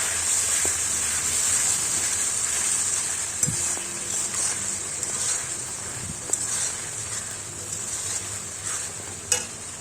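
Spice paste for rohu fish curry cooked down with a little water in a pan, giving a continuous close hiss and sizzle with a few sharp scrapes and taps of the spatula, no voices.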